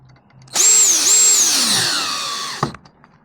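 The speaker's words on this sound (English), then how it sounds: "We're just going to come across and we're going to screw it right there." A power drill drives a screw into a metal gate latch in one close, loud burst of about two seconds, its motor whine rising and dipping in pitch before cutting off abruptly.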